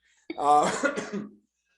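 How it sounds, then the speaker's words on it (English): A small, dry cough from a man with a lingering cold, a single short throaty burst that rasps for about a second at close range, then silence. "I got a cold 3 weeks ago and I can't get rid of the little cough."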